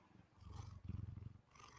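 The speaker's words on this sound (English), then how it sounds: "lots of purring" A cat purrs in a soft, low, pulsing rhythm close to the microphone, with two short bursts of purring separated by a brief pause, faint and alone without talk.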